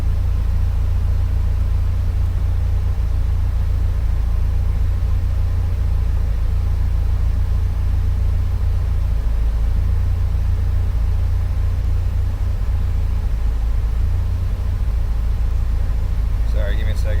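A built 2.5-litre Subaru Bugeye engine runs steadily, a constant low rumbling drone close by with an even level throughout and a brief click near the end.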